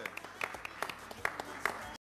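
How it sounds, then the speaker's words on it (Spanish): Studio audience clapping at a lottery draw broadcast, applause for butchers, coming in uneven bursts of claps under a presenter's voice; fairly faint and close. "Un aplauso para todos los carniceros acá, por favor."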